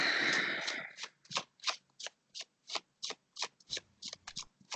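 Tarot cards shuffled and pulled by hand: a brief riffle opening, then about a dozen crisp, close card snaps in an even rhythm, with no speech.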